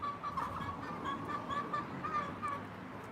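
Fowl cluck and squawk in a quiet, rapid series of short calls, fairly soft and close, with a faint background hiss.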